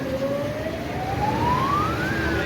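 A fire brigade truck's siren wails loudly and close, its pitch sweeping steadily upward and then holding high, as the crew arrives at a large fire in Ghevra.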